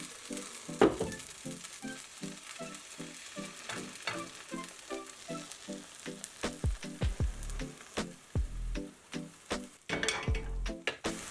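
Vegan omelet batter cooks in a pan over low heat, a steady soft sizzle with a repeated scraping, tapping rhythm of a utensil spreading it, getting busier and louder toward the end.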